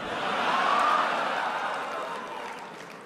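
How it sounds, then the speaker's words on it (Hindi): An audience at a large hall event in Germany claps together, a broad wash of applause that swells early and then slowly fades a little while staying steady. "तालियां तो अब बजने वाली है।"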